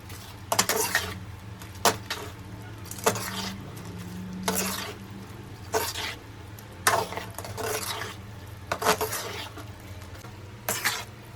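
A spoon stirs wet cabbage Manchurian in a pan over a low flame, giving repeated scraping clinks against the metal at irregular intervals over a faint sizzle, close and fairly loud.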